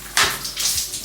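A hotel shower with weak water pressure sputters in short, irregular bursts of splashing water, close by and brief.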